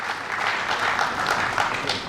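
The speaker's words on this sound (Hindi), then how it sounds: "पूरी टीम का जोरदार तालियों से स्वागत करें और हम प्रेरणा लें।" Steady, dense applause from an audience welcoming a team at a Rajasthani cultural event in Delhi, sustained at even loudness throughout.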